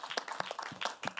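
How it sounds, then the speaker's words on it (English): Audience clapping at a student debate competition, a brief burst of sharp, fairly quiet claps. "Please clap for them again."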